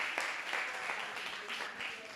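Faint audience applause for a student presenter at a Spanish presentation, a steady patter of clapping heard from a distance with speech mixed in.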